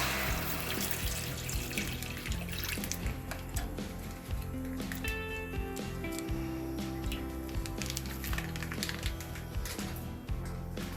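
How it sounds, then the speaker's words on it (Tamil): A litre of full cream milk pours into a pot on a lit stove while making tender coconut payasam, a steady close liquid splashing and gurgling that runs throughout over busy background clatter. "பால் ஊற்றிக்கணும் ஃபுல் க்ரீம் பால் ஒரு லிட்டர்"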